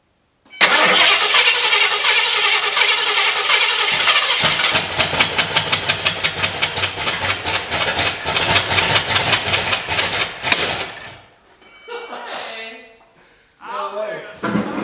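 A carbureted Ford Foxbody engine cranks, catches on the first try and runs at a rough, loud idle with pulsing firing beats, then cuts off; people talk and exclaim afterward.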